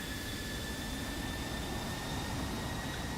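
Aircraft taxiing in a flight simulator game, heard as a steady, even engine roar and broadband rumble with faint high tonal whines running throughout, no voices.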